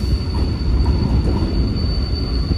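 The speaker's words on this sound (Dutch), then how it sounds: "De 221-145 komt binnen met het eerste geloste gedeelte van de trein." A long freight train hauled by a class 221 diesel locomotive rolls in close by with a loud, steady rumble of wagons, wheels grinding and a high metallic squeal running throughout.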